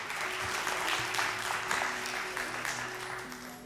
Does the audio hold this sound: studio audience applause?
yes